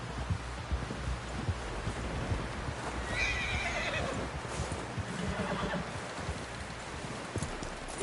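A horse whinnies amid steady clip-clopping hooves in Red Dead Redemption 2, with a loud neigh near the middle over a dense, continuous game soundscape and no clear speech.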